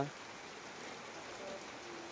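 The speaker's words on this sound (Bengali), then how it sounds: "আল্লাহর রহমতে বৃষ্টি পড়ছে।" Steady rain falls in Kerala as a soft, even hiss that stays low and continuous throughout, with no voices over it.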